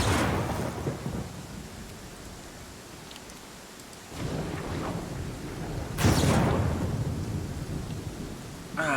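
Thunderstorm summoned in a video game battle: steady heavy rain with loud thunder crashes rumbling in around the middle and again near the end, no voices.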